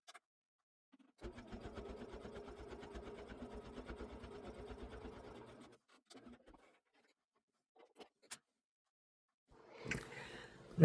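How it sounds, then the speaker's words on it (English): A sewing machine stitches quilt-as-you-go block sashing with a quarter-inch seam, running in a steady rapid burst for about four and a half seconds, then a few short stitch taps and faint handling noises before a rustle at the end. "I'm going to sew it on with a 1/4 inch seam to this block."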